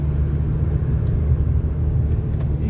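Car engine revving up as the driver eases from half clutch onto the gas during a driving lesson, a steady low rumble close by with no voices over it.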